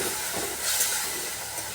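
Spice paste for an egg dal hisses and steams in a hot pan as a splash of water hits it, a steady broadband sizzle running throughout the short stretch with no voices.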